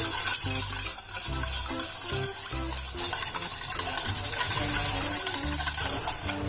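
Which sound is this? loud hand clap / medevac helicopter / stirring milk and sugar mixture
stirring milk and sugar mixture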